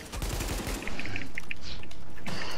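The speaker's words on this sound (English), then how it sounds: "That APC is firing." An armored personnel carrier in a video game fires its gun, a steady loud rattling stream of rounds that thickens after the first second, with a few chirping tones over it.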